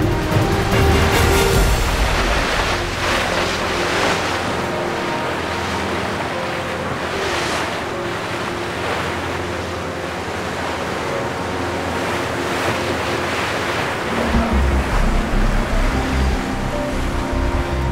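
Ocean waves and wind rush steadily around racing sailboats running downwind during a Newport race week regatta, a loud continuous wash of water and buffeting wind noise throughout with no voices.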